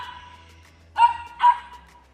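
Two sharp, close dog barks in quick succession after a quiet stretch with a faint low hum underneath.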